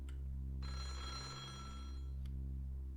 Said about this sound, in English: A phone was ringing somewhere else in the mansion.